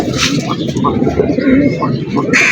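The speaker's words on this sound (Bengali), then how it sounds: "আর আমার বাড়ির সবচেয়ে পুরান কবুতর হইতেছে এই যে এইটা" A domestic pigeon of an old traditional breed coos nearby in a low, throaty rolling murmur, heard under someone talking.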